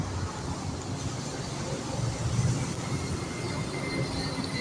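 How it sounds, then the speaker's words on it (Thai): An elevated electric train rumbles past near Bangkok Yai bridge in Bangkok at a steady, continuous roar, with broadband rushing noise and wheel clatter, moderately loud and unbroken for several seconds. "รถไฟฟ้าทางเร็วสูง"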